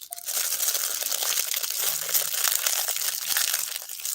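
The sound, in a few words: crumpling up wrappers, ASMR demonstration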